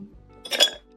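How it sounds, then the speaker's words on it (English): Ice cubes clink and rattle into a glass mason jar in a short burst, bright and close, after a moment of near quiet. "I'm just gonna add some ice to my mason jar."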